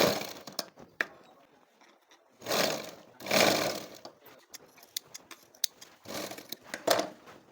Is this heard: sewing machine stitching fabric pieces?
yes